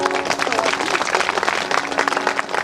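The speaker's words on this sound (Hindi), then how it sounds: "आधा जन ताली बजाओ" A crowd of listeners at a Bhagwat Mahapuran religious discourse in a village claps together, a dense, steady patter running throughout with a voice heard over it.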